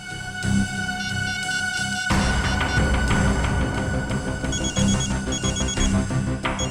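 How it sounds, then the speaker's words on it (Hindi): A phone ringtone plays in repeating chimes over a busy electronic tune, fairly quiet and steady, with no voices. "श्रेया, जरा सागर के फोन पे कॉल करना।"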